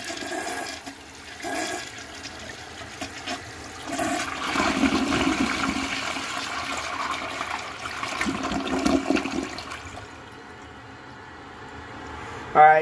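A 1998 American Standard Colony toilet flushing during a bowl rinse test: a loud rushing gush of water that swells, churns for several seconds, then drops to a quieter refill trickle before a sharp knock at the end.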